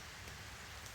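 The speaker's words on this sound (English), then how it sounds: "you might be able to hear rain" Steady rain falls on a tent at a woodland campsite, a soft, even patter heard up close with no voices.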